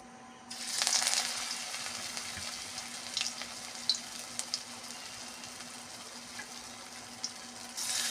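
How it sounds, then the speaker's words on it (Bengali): Bitter gourd leaf fritters fry in a pan of oil with a steady soft sizzle. A brief louder hiss comes near the start, and faint crackles and pops follow through the rest. "বড়া ভাজার সময় স্টিম একদম কমিয়ে দিতে হবে।"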